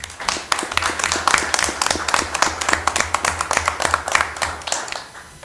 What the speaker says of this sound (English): Another huge round of applause for Mr. Billiard.